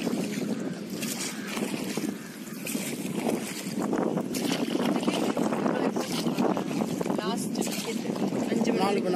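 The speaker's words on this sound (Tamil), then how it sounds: "நாங்கள் தொடுப்பு படகுல போயிட்டுருக்கோங்க" Small three-person rowing boat glides across the Muttukadu backwater, with water lapping, wind buffeting the microphone and people talking over the steady outdoor noise.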